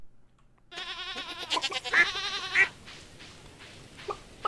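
Goats bleating in the farming video game Stardew Valley, a long wavering bleat followed by shorter cries, clear and prominent over a quiet game background.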